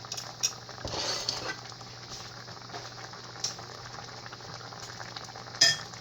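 Orange chicken sauce with vinegar cooks down in a pan, giving a soft, steady bubbling simmer with a faint low hum, a brief stir near the start and a light utensil clink near the end, with no talk.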